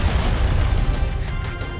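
Objects burst in the platform game Shantae and the Seven Sirens, a loud dense rumbling blast with crackling debris that fills the moment and slowly thins out.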